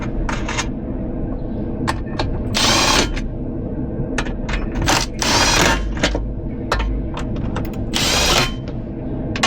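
A power tool whirs in short bursts as screws go back onto a VW T4 swivel seat console, with clicks and metallic handling sounds between the runs, close and fairly loud.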